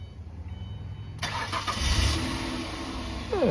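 Car engine cranking and catching via a remote starter with a chipped-key bypass module, no key in the ignition, then settling into a steady idle, heard close with a faint background hum before it fires.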